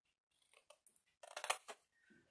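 Scissors cutting cardboard for a desk organizer box, a series of short crisp snips and crunches that grow denser in the middle, close and quiet in an otherwise silent room.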